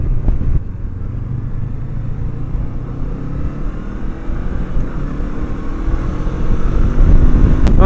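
A 2024 Honda NX500 motorcycle accelerating on the road, heard from the rider's position: a steady engine drone with rising harmonics under constant wind rush, growing louder toward the end, with no talking.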